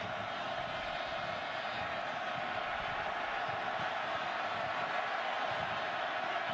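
A stadium crowd of 58,000 roars steadily at a night college football game between the Oklahoma Sooners and Oklahoma State Cowboys, a dense, continuous wall of noise with no breaks throughout.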